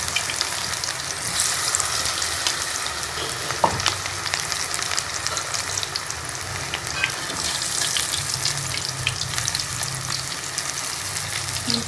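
Spinach pakoras frying in hot oil on a medium flame, a dense, continuous close sizzle with occasional pops and stirring clicks, no voices.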